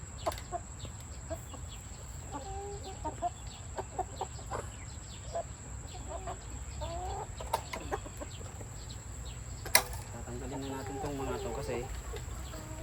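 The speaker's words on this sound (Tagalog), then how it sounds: "Yan yung mga manok natin." Chickens cluck in short bursts around a farmyard, with steady background noise, a high insect-like whine, and occasional faint voices.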